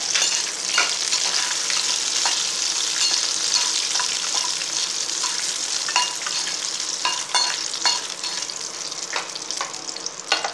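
Dried red chillies crackle and sizzle in hot oil alongside curry leaves for a Tamil-style ginger chutney, a loud, dense, continuous frying hiss close up with frequent sharp pops and stirring scrapes throughout, no talking.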